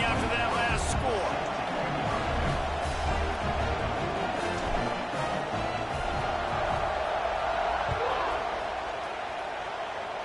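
A stadium crowd at an FSU versus USC football game buzzes and roars after a touchdown, a dense, steady wash of cheering and chatter that fills the whole stretch, with a commentator talking over it.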